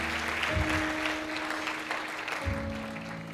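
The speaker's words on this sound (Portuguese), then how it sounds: "Você que crê, dê um aplauso e pode tomar o seu lugar." A church congregation applauding together, sustained clapping from many hands filling the room, with a low hum and faint voices underneath.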